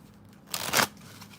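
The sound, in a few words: shuffling cards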